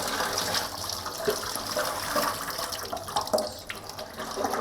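Tap water runs steadily into a sink while tomatoes are rinsed for a vegetarian Shivaratri dish, a constant splashing hiss with small irregular surges and drips as the vegetables move under the stream, close and alone.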